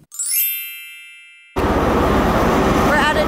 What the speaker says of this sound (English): We're at a train station right now.